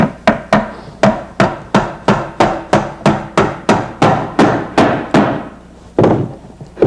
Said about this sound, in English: I'll drive a nail in back here.